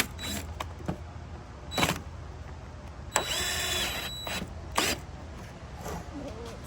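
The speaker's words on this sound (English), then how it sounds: "the real test is whether or not I can get the screw in" A screw being driven into wood while building an outdoor couch, with short bursts of power-tool driving and ratcheting clicks, a longer whirring run in the middle, close and fairly loud.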